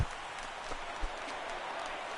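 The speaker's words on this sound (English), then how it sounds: "The crowd is ready to erupt as their guys get set to take the field." Stadium crowd cheering and applauding in a PlayStation 4 MLB baseball video game, a faint, steady wash of distant crowd noise with a couple of brief low thumps near the start.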